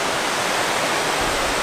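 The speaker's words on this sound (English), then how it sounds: "we found a waterfall" Waterfall in Barrington Tops National Park, a loud, steady rushing roar of falling water filling the whole scene without a break.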